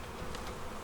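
Honey bees buzz around an opened hive being supered against early swarming, a brief dense drone of many wings close by with no speech.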